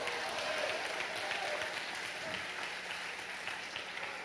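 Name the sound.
congregation applauding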